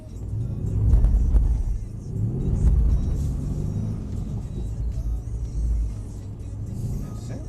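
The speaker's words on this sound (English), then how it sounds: "let's start the drift." A Mercedes-AMG 63 engine during drifting on a driving experience track, a loud rumbling engine swelling and easing in repeated surges, close up with a continuous low roar.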